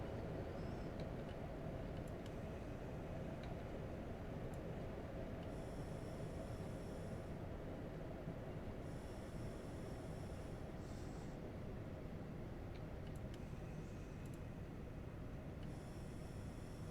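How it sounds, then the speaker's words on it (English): HST high-speed train running in Train Simulator, a steady low rumble and rolling drone at constant level, with occasional faint high tones and clicks over the top, no voices. "basically this is a high-speed train"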